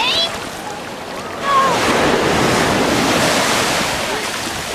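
Ocean surf rolling onto the beach at Gulf Shores, a steady broadband wash with wind noise across the microphone, louder after the first second and continuous to the end, with faint voices in the background.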